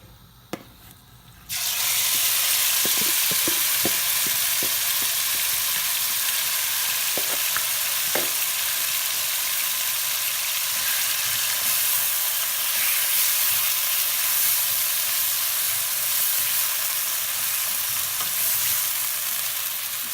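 Chicken stir-fries in hot oil for a Pakistani-style Singaporean rice, a loud sizzle bursting in after a quiet start with a few clinks, then a dense steady hiss that carries on without talk.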